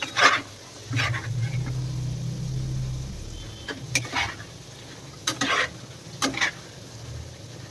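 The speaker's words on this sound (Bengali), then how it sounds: "আলুগুলো ভাজা হয়ে গেলে তুলে দেবো" Potatoes frying in a pan on a home cooking stove, with a steady sizzle beneath intermittent scraping stir strokes and utensil clatter, close and moderately loud, no voices.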